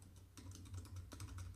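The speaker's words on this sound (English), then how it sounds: "So right here we can type in" A computer keyboard being typed on to enter a domain name, a short run of soft, quick keystroke clicks heard close and quiet over a faint background hum.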